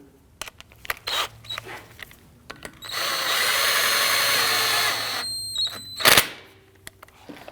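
A bolt being threaded into a 2009-2017 Volvo XC60 front strut and snugged down gently with a power tool: a steady whirring drill burst of about two seconds, close and fairly loud, bracketed by short clicks and clatters.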